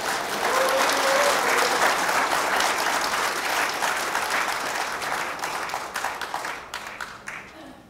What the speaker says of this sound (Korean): 여러분들의 힘찬 박수로